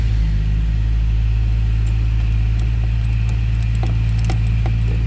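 A 1950 Hudson Commodore Six four-door sedan with an inline six-cylinder engine gives a loud, steady low rumble with faint ticks and rattles, running continuously throughout.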